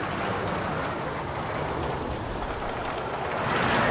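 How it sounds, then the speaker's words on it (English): Steady, loud rain hisses evenly throughout in the theme-park building game OpenRCT2, a dense wash of falling drops with no pauses and no talking. "The rain again is here."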